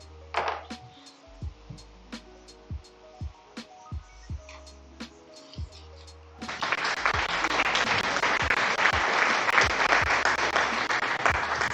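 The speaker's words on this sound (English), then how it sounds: "Thanks for the applause." Workshop tapping and knocking from desk assembly for a tool library gives way midway to a canned applause alert on a livestream, steady clapping and cheering that fills the rest of the clip.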